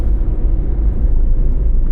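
Heavy coal haul trucks roll across an overpass near a coal terminal, a loud, steady low rumble that continues without a break and carries no voices.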